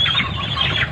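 A plump chicken squawks and squeals loudly in a short burst of close, agitated cries while being handled during a poultry harvest.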